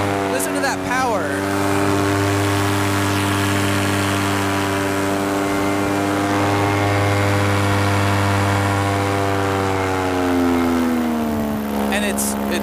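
A paramotor engine runs steadily in flight with a loud, droning hum that holds its pitch, then dips slightly near the end as the throttle changes. The sound is constant and close.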